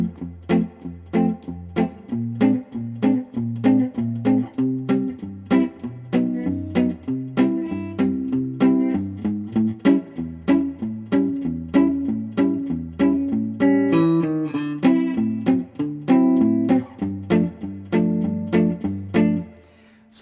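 Guitar fingerpicked, playing the A section of a song: a steady alternating thumb bass under a clear melody line, close and clean for about twenty seconds, no talking.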